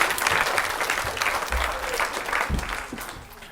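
A roomful of children claps together at a school maths talk, a thick burst of applause that stays strong before thinning near the end.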